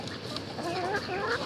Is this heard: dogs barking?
no